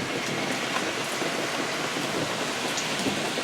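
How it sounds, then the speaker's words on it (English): Steady, dense rain falls on a windy day in Coronado, a close and continuous hiss of drops on surfaces with no pauses and no voices. "I hope this video isn't too distracting with a windy, rainy day in Coronado."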